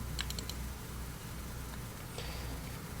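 A computer mouse clicking while someone works in hospital admission assessment software: a quick burst of four sharp clicks at the start, then near silence over a faint steady hum.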